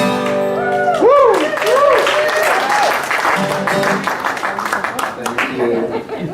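At a Sunday service, a congregation whoops and cheers loudly, then breaks into lively clapping that carries on under scattered voices.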